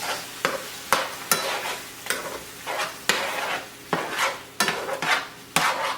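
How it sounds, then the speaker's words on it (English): A utensil stirs food in a sizzling pan, giving repeated scraping strokes at a steady rhythm over a constant frying hiss, close and fairly loud. "So we should stir for 5 minutes."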